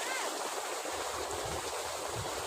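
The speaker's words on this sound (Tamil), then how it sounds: "இந்த தண்ணி இது ஓடுறது" Water runs steadily in a stream beside a farm field, a constant close rushing wash with no pauses and no voices.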